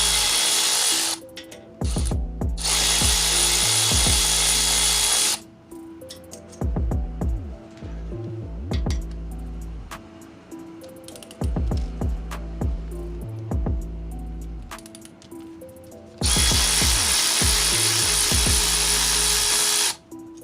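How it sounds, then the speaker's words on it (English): A power tool with a 21mm socket spins lug nuts off the front wheel of a 2003-2008 Infiniti FX35, with several loud, sustained buzzing bursts separated by metallic clinks and rattles, close up, with no talking. "you'll need a 21mm socket to remove the lug nuts"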